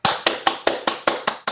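Seminar audience clapping in a steady, even rhythm, eight or so crisp, loud claps close together, with no voices over them.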